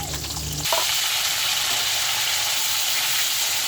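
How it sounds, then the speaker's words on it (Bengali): Cut potato pieces drop into hot oil in a kadai with cumin, and a loud, even sizzle takes over after a brief clatter at the start, continuing steadily with no voices. "এবার গরম তেলের উপর আলু কেটে রাখা।"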